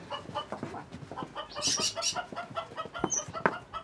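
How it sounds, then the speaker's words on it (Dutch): Chickens cluck and call outdoors in the village of Haanrade, a busy, close run of short cackles and squawks with a few higher calls from other birds. "Vogels genoeg."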